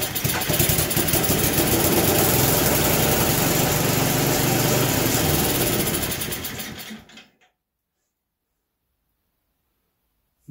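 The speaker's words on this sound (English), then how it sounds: "I'm running the choke on. Carburetor is loading up." An Agway snowblower engine runs with the choke on and the carburetor loading up, a steady buzzing idle for several seconds that then sputters and dies, leaving near silence.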